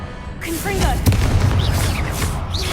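A Confringo fire spell explosion in Hogwarts Legacy lands as a loud booming blast followed by rumbling, crackling aftermath, with a voice talking over part of it.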